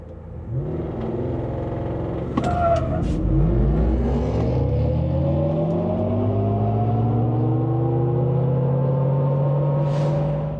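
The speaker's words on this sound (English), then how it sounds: "So now, this time around, I'm gonna launch it properly." Hummer EV electric truck launches hard in a drag race, its loud electric motor whine sweeping steadily upward over a deep rumble, with a short clatter near the start and the pitch climbing throughout.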